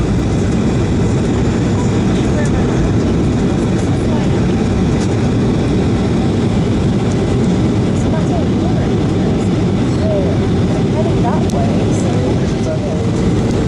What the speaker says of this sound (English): Now we're on short final, approaching runway 4 right.